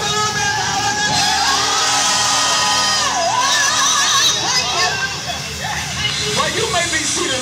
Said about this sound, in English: Somebody scream a little bit louder than me.